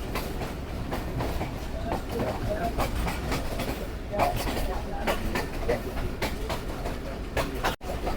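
The Sialkot Express running on rails past Shri Rampura station, with a continuous rumble and rhythmic clickety-clack of wheels over rail joints, and someone talking over it.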